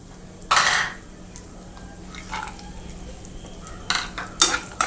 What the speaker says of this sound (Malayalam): ഇതെല്ലാം നല്ലപോലെ ഒന്ന് ഫ്രൈ ആയി വരണം